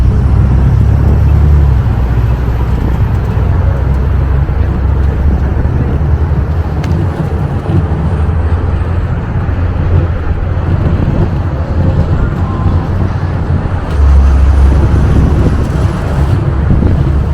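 A car drives through Las Vegas traffic at night beneath the downtown arches, giving a steady, loud road rumble and engine drone with no clear talk over it.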